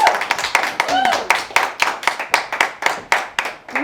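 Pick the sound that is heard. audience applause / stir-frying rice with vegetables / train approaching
audience applause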